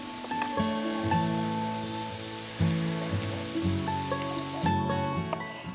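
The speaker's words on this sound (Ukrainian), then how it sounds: "Перемішуємо та залишаємо смажитись." Onion and carrot sizzle and crackle steadily in a hot pan beneath a droning, tonal mechanical hum that shifts pitch now and then.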